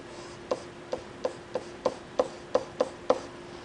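Marker strokes on a classroom board as a graph is drawn, about nine short, evenly spaced taps and squeaks over a faint steady hum, with no talking.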